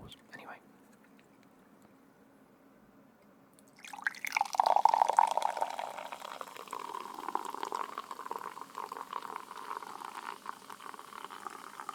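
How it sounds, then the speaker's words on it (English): Fanta Fruit Twist fizzing after the can is opened, a soft click and then a steady carbonated hiss with faint crackle that keeps going and slowly settles. "Listen to them bubbles."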